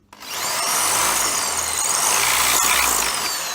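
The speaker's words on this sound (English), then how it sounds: "And then I'll mark a hole there and drill it." Power drill boring a hole during a woodworking build of a double table saw bench, a steady close whine running a few seconds after a sharp start.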